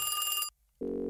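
A telephone rings in a pizza-themed video game: a loud, bright electronic trill for about half a second, a brief silence, then a lower buzzing ring begins, with no talk over it.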